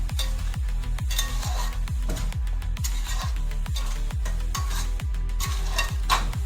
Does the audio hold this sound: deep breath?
no